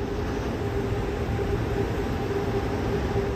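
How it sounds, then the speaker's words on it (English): A Valley Metro Siemens S700 light rail train runs steadily, heard from inside the car as a continuous low rumble and rolling hum with a faint tonal whine. No voices are heard. "This train goes to Gilbert Road and Main Street."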